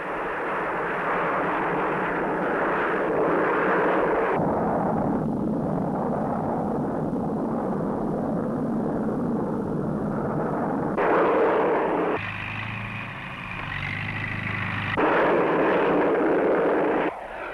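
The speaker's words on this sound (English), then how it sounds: "This Harrier of number 4 Squadron, based in Germany, is outward bound on a reconnaissance mission." A Harrier jump jet of a squadron based in Germany roars past on a reconnaissance flight, a loud, continuous broadband jet rumble that dips and swells with shifts in pitch, heard alone without talk.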